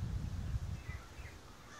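A bird calls from a yard where chickens are kept, giving a short, honking, fowl-like cry close by over a low rumble that fades after the first second.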